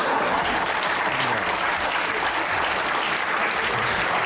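A studio audience at a comedy interview show claps, giving a thick, continuous roar of applause that stays loud and even from start to finish.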